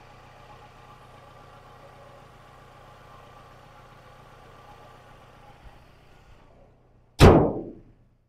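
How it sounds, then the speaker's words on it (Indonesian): A used eight-seat family car idles smoothly, a faint, steady low hum that runs for about seven seconds before a single sharp, loud thump cuts in near the end. "Bagus banget mesinnya, benar-benar masih halus, teman-teman."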